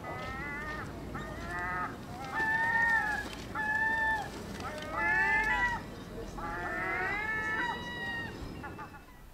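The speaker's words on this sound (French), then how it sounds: "Des goélands à l'heure du repas." Gulls gathered at feeding time call loudly and repeatedly, overlapping yelping and mewing cries rising and falling in bursts, close by and dominating the scene.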